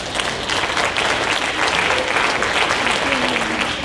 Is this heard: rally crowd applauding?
yes